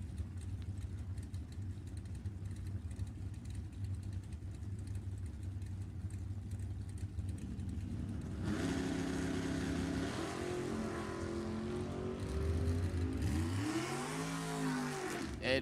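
A Nova and an El Camino drag racing in Super Pro at an NHRA Summit Racing Series Division 7 E.T. Finals; a distant engine drone builds into loud revving roars and swooping pitch sweeps as the cars launch and run.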